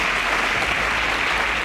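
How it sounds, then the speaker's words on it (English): Studio audience applauding a contestant on a televised quiz show, a dense, loud, even burst of many clapping hands with no talking. "A round of applause for Victor."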